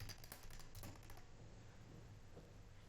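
Fast, close tapping on a computer keyboard while a SQL update query is written, dense keystrokes at first that thin out toward the end, quiet and with no talk.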